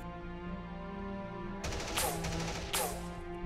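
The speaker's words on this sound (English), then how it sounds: "open fire with his Boltgun" A Warhammer 40k Space Marine boltgun sound effect plays a rapid burst of loud automatic gunfire, then a second shorter burst, over a steady droning background hum.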